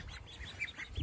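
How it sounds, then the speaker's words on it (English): Soft, high peeping calls from young ducklings repeat in quick succession, fairly close and quiet, with a faint low rumble underneath. "So these are the little ducks now."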